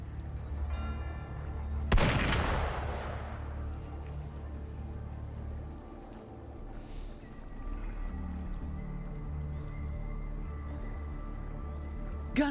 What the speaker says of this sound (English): Gunfire! We've got intruders.